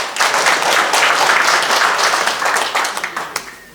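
Warm applause from the audience at an anniversary ceremony and lecture event, a loud, continuous crowd clap that fades slightly toward the end.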